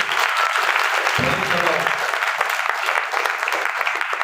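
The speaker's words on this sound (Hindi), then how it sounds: "थोड़ा ताली बजाओ जोर से प्रभु के लिए।" Church congregation applauding loudly for the Lord during a Hindi worship service, a dense, steady wash of many hands clapping throughout, with voices mixed in.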